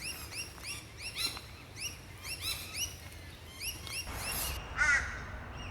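Birds chatter in wet bushland after rain, with repeated sharp chirps and squawks from several birds at a moderate distance over a quiet background.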